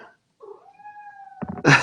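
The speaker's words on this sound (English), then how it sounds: "letting the cat in. I couldn't think when she was yelling." A pet cat meows indoors, first with a short chirp and then a long, steady, fairly loud cry, followed by a burst of rustling or handling noise.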